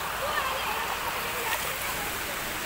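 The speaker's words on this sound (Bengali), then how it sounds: "জল" A stream where people bathe at Sonajhuri, Bolpur, rushes and splashes as a steady broadband wash, close and continuous, with no clear breaks.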